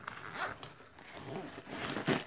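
A zipper being pulled open on the secondary pocket of a tech backpack, giving a few short, close rasping strokes with a brief pause in the middle, heard alone.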